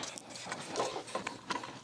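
Hex-fitting screws on a Denali Soundbomb horn mount for a BMW R1300 GSA being snugged up, heard as faint close clicks and light metallic ratcheting ticks in a short, uneven series.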